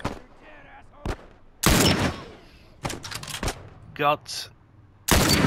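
Gunshots from The Last of Us Remastered ring out in several sharp, loud bursts, some single and some rapid clusters, spread across the clip with a player's voice briefly heard between them.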